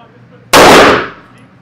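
A single loud, sharp shot rings out close by from a Canik TP9 9mm pistol fired at a shooting range, then decays quickly into a brief ringing tail.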